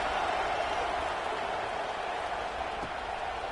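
Stadium crowd roaring at kickoff in an NCAA football video game, a dense, steady wash of cheering noise that holds at an even level throughout with no distinct voices standing out.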